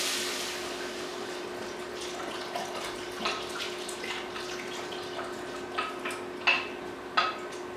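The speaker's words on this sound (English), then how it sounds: "Now I'm just going to add my broth to it." Leftover broth is poured steadily into a cooking pot for red beans and rice, a soft continuous liquid rush with a few faint splashes and clinks toward the end.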